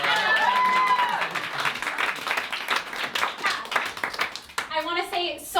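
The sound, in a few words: audience applause at a birthday cabaret show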